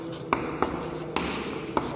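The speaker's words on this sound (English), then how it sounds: "You have to write like this." Someone writes out a subtraction problem by hand for a primary-school maths lesson, giving a soft continuous scratch of pen or chalk with four sharper taps at the starts of strokes, close and quiet with no speech.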